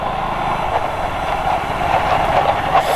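A train rolls past a railway crossing on a ride toward Nagarjuna Sagar, its wagons giving a loud, steady rumble and rhythmic clatter that stays close and continuous throughout.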